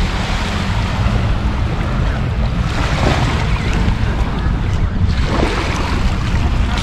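Waves roll onto Patong Beach in Phuket, Thailand, making a loud, continuous wash of surf mixed with gusty wind buffeting the microphone, with no voices.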